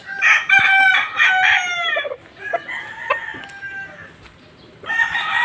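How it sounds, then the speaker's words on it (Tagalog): A flock of chickens and roosters sounds off close by, with loud, repeated crowing bursts mixed with scattered clucks and short calls. "Daghan kayong manok dire."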